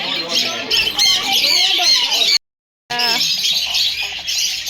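A parrot at a children's petting zoo gives harsh, raspy squawks and chirps, loud and close. Calls come in bursts with a brief gap of silence between them.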